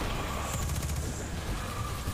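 Rapid gunfire from a sci-fi shooter game, Destiny 2, fills the stretch as a dense, steady burst of overlapping shots with no pauses.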